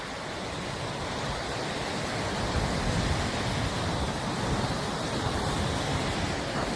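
Sea waves wash steadily onto Madhavpur beach, a broad continuous surf roar with gentle swells and some wind, no voices.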